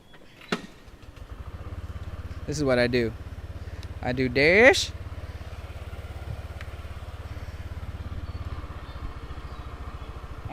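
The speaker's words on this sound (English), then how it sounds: "let's start my motorbike." A motorbike is started nearby, its engine catching after brief cranking and settling into a steady, close idle, with someone talking over it.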